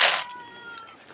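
A temple cat at Wat Pong Chai in Chae Hom, Lampang, gives one close, clear meow that opens sharply and trails off into quiet background.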